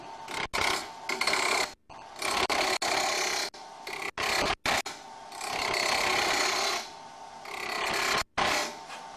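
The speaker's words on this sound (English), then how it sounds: "Turn the lathe on and create the final section." A wood lathe turns the final section of a wobble chuck project, the tool cutting with a steady loud rasping scrape broken by several brief stops across the run.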